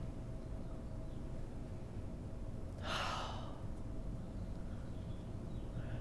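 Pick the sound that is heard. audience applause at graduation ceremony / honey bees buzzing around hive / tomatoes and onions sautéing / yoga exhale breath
yoga exhale breath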